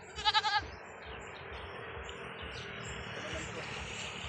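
A short, wavering goat bleat rings out near the start, followed by steady background noise and faint low rumble.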